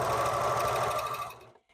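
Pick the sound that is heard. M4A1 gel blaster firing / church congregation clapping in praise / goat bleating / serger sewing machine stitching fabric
serger sewing machine stitching fabric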